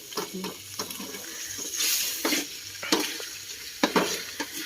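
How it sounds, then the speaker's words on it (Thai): Chicken offal sizzles in a hot pan while a spatula scrapes and stirs in short bursts, heard up close. "น่าจะเป็นผัดเครื่องในไก่นะครับทุกคนครับ"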